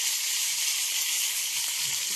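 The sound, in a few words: frying Toscana sausages in a pan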